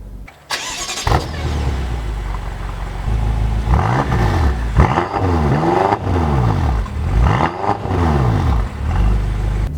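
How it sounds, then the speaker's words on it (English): A 2014 BMW M6 Gran Coupe started with the keyless start button: a brief starter whir, then the engine catches and revs loudly up and down several times, close and dominant, before settling into a strong idle. "this is of course keyless start, so you just leave that in your pocket, hit the start button, it starts right up"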